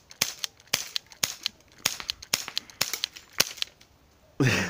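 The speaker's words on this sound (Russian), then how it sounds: "Стреляю неприцельно." KWC Mac 11 air pistol fired outdoors in a quick series of about a dozen sharp, snappy pops with short uneven gaps, fairly close and light, followed by a brief burst of rustling or handling noise.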